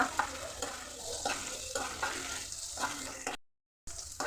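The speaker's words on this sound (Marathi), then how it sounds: "कांदा घेतलाय मी, तर आपल्याला लालसर होईपर्यंत परतून घ्यायचा कांदा।" Onion frying in a pan until reddish, a close continuous crackling sizzle with rhythmic stirring strokes, briefly cut to silence near the end.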